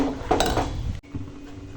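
A ladle stirs payesh, a Bengali rice pudding, in a cooking pot, scraping and clinking against the metal at close range in a couple of quick strokes followed by a brief pause.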